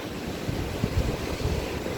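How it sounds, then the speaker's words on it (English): Wind buffets a microphone along an ocean boardwalk, giving a steady low roar with soft gusting thumps and surf hiss behind it. "It's kind of windy and I got earpiece in"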